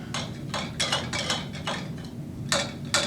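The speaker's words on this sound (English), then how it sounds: "So I put it in a cold water bath." A glass flask is set into an ice-filled cold water bath in a chemistry lab, producing a series of close, rattling clinks and knocks spaced irregularly over a few seconds.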